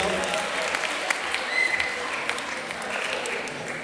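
An audience applauds at a school debate on homosexuality at a liceo ginnasio, welcoming Carlo of ARC Cagliari; steady dense clapping fills the room at moderate level throughout, with a brief tonal whine in the middle.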